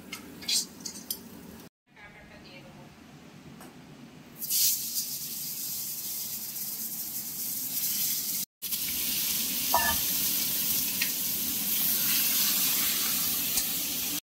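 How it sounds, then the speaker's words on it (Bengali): Ridge gourd and vegetable stems sauté in hot oil with black cumin, salt and turmeric for a desi katla fish curry. A steady close sizzle runs throughout, broken by two brief silent gaps, with no talking. "ঝিঙে আর ডাটাগুলোকে একটু কালো জিরে তেলের মধ্যে সাঁতলে নেওয়া হচ্ছে"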